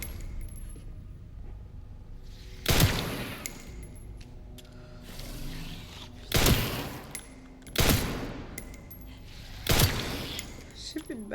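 Gunfire in the video game Resident Evil Requiem rings out in four sharp, loud bursts spaced a few seconds apart, each ending in a short metallic tail, over a low murmur of background game sound.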